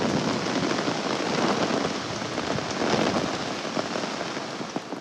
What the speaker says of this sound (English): The rain is starting to stop or dramatically slow.